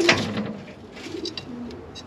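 A nesting pigeon sitting on two eggs gives soft, low coos after a brief sharp rustle, close by and quiet, with no talking.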